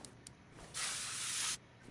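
A car part is spray-painted in the Car Mechanic Simulator 2021 video game: one steady hiss of the spray gun, close and fairly loud, lasting under a second over quiet background noise.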